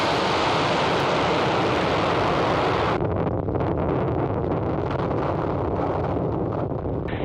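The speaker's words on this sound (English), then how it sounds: "liftoff of Falcon 9" A SpaceX Falcon 9 rocket lifting off from SLC-4E at Vandenberg Space Force Base, California, with the NROL-48 mission, a loud continuous rumbling roar like heavy wind that dulls slightly midway and keeps thundering.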